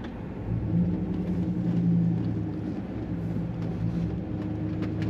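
Engine and exhaust of a 2006 Chevrolet SSR convertible pickup truck while driving, a steady low rumble with a rising throttle swell partway through, heard from inside the cabin without talk.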